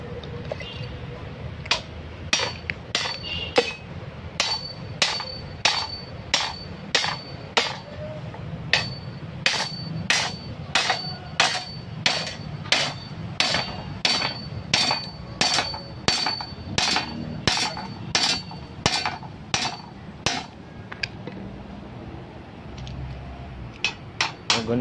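Sharp hammer blows ring out one after another in a steady rhythm, close and loud, with a few gaps and faint voices in the background.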